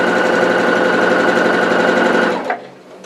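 A sewing machine runs steadily and loudly, stitching a seam in bias binding, then stops abruptly near the end with a brief mechanical clack.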